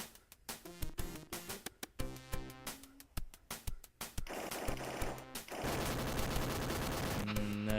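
Shooting in the 1989 Sega game ESWAT: Cyber Police: a rapid run of sharp, evenly spaced electronic gunshots that gives way to a dense, continuous barrage of firing and explosions.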